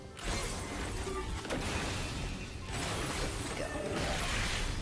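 Flashy melee combo finisher effects from the Red Mage job in Final Fantasy XIV: a dense, continuous wash of whooshing, metallic clashing and mechanical impacts, loud and busy throughout, with no talk.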